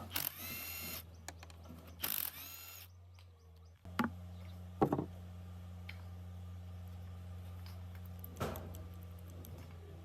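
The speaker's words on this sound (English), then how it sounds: "A long wrench cracks the top, splitting the greasy housing open." A long wrench ratchets and cracks open the greasy gear housing of an abandoned, long-submerged KIA truck, giving a few sharp metallic clicks and bursts of ratcheting over a steady low hum, near and fairly quiet, without voices.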